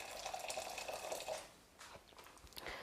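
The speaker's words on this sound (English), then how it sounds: "So just a little bit of boiling water in there." Boiling water pours from a kettle over frozen peas in a bowl, a soft, steady splashing stream that fades out and then returns in brief trickles.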